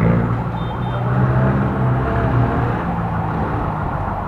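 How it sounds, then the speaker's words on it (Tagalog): Traffic in a congested one-way street near an SM mall in the Philippines rumbles steadily nearby, with idling and passing engines and a brief faint beep, no talking. "Traffic."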